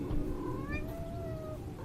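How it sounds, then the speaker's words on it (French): A cat meows at a door, wanting to be let back inside: a single drawn-out, rising and falling meow, moderately close, over a low background hum with no talking. "Il y a mon chat qui veut rentrer."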